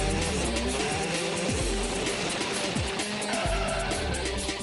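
A modified street car, not a full race car, drifting hard under Red Bull Xtreme Drifting rules, its engine roaring loud and close with repeated sliding tire squeals and skids running continuously without a break.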